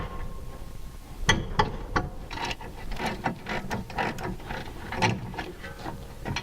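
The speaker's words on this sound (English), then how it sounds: "There's 2 more bolts on the back side here. And once again, we're going to go through and loosen them up." A ratchet loosens the rear caliper bracket bolts on a 2012 Scion xD during a front disc brake job, with a series of sharp clicking bursts and short pauses, close and fairly loud, and no talk.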